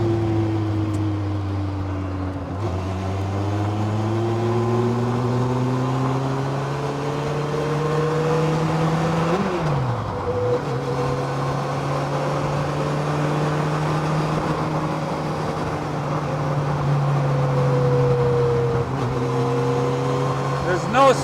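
A 2007 Campagna T-Rex trike with a 200hp Kawasaki 1350cc engine and 6-speed gearbox drones steadily while driving, pitch climbing through revs with one dip during a shift, loud and continuous from onboard.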